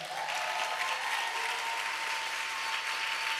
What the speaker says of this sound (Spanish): una iglesia agradecida les recibe a cada uno de ustedes con un caluroso aplauso